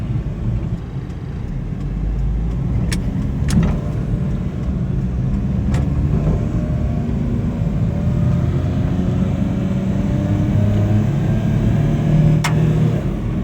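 A 2000 Suzuki Carry mini truck with automatic transmission drives along a road, its engine and tyre roar a steady, loud drone throughout, with a few brief knocks and clicks from the cab partway through.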